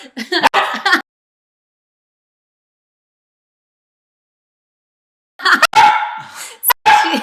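A pet dog barks in a home during a dog-toy test, several sharp barks in two close bursts separated by a long silent gap, loud and near.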